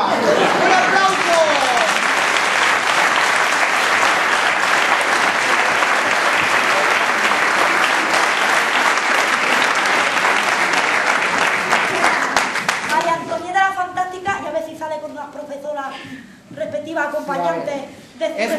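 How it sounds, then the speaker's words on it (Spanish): Loud, sustained audience applause fills a clown gala, steady clapping for about thirteen seconds before it thins out and a voice speaks over the fading claps. "¡Un aplauso!"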